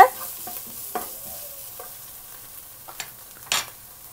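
Gobi manchurian mixture stir-fried in a pan, a faint hiss broken by a handful of spatula scrapes and knocks, the loudest near the end, close with no speech.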